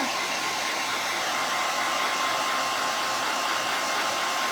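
A hair dryer blows steadily and loudly while drying a fabric transfer for a pillow, a constant close rushing roar with no talking.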